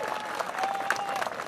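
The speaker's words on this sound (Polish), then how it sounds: "Oklaski" A crowd applauds briefly and fairly faintly after a bout at a 2-on-2 fighting tournament, producing steady clapping with no clear break.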